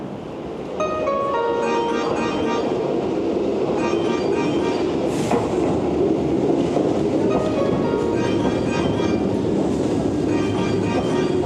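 A Hankyu train pulls into a Japanese platform with a loud, steady rumble and rail clatter, a brief squeal and hiss in the middle, and tonal whine from the motors.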